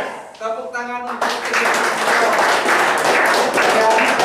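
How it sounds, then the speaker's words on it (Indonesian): Indonesian seminar or motivational-talk audience breaking into applause, a dense steady roar of many hands clapping that swells after a brief voice and keeps going loud throughout. "Tepuk tangan untuk"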